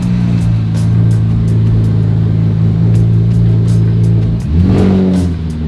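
A Porsche Cayman S (987) engine idles with valves closed on its Valvetronic exhaust, a deep, steady exhaust rumble, close and loud, then dips briefly and blips up near the end.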